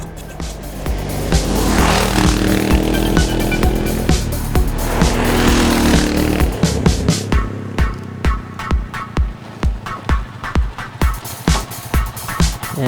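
A Kawasaki KLR650 motorcycle roars at high speed with a loud, sustained engine drone and wind rush that gives way to rhythmic pulsing surges, the engine strained and overheating.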